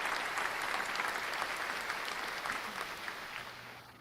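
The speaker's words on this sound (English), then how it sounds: "Give them a round of applause." A round of applause from an audience at a religious study gathering, steady dense clapping throughout that slowly fades toward the end.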